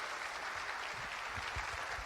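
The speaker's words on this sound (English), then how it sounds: "So give yourselves a round of applause, please." An audience at a startup keynote on blockchain business use cases gives a steady round of applause, a dense, continuous wash of clapping that fills the room with no voice over it.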